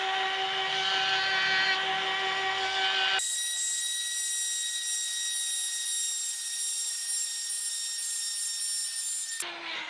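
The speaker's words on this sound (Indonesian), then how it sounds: "kita bentuk menggunakan bor redem" A high-pitched rotary drill whines steadily and loudly, shifting pitch partway through as it grinds and shapes a seashell for a pendant, with no talking.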